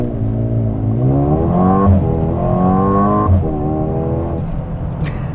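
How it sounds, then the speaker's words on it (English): A 2021 Mercedes-AMG GLA 35 launches hard from standstill in Sport Plus, its engine note climbing loudly through rising gear pulls with brief dips at each shift, close and with no talking. "when I release the brake, it's going to launch as hard as possible."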